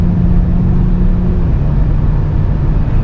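A 2024 Toyota Camry TRD pulling onto a highway, heard from inside the cabin as a steady low engine hum with a muted exhaust note, wind and road noise, and no talking.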